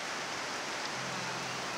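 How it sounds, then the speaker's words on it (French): Rain falls steadily on rice paddies in the mountains of southern Sulawesi, Indonesia, a soft, even hiss of drops that stays faint and constant with no voices. "Il pleut sur les rizières des montagnes du sud de Sulawesi"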